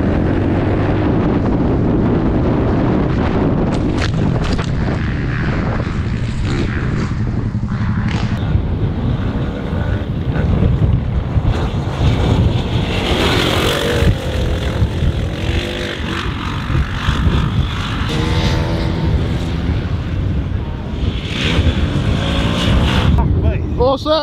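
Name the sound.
wind blowing outdoors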